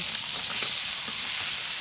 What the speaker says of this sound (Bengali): মাছগুলো উল্টে দেওয়া হচ্ছে।